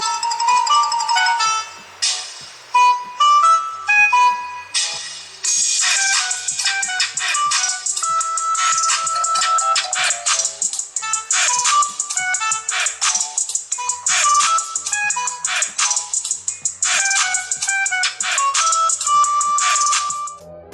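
A Motorola Droid phone running Android 2.0 plays a bright electronic ringtone melody through its small speaker, quick staccato notes in a repeating pattern, loud and close.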